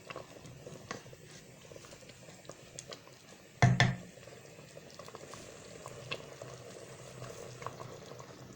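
Chicken vegetable soup simmering in a covered pot: a quiet, steady low bubbling throughout, broken once by a brief louder clatter like a lid or utensil knocking against the pot.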